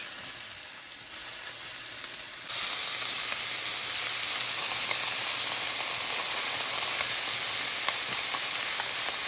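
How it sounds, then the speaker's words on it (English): Vegetables hitting hot coconut oil in a pot for a Jamaican ackee and saltfish dish, a soft hiss that jumps into a steady loud sizzle and keeps going, with no talk. "Now I'm gonna use my coconut oil, put in the pot. And now I'm gonna saute"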